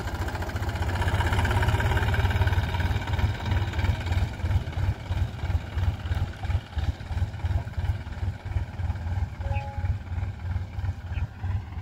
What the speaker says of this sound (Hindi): ट्रैक्टर को खड़ा कर देंगे उधर कॉलोनी में